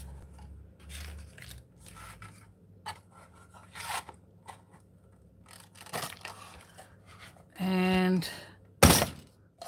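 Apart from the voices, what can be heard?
paper punch punching thick paper masterboard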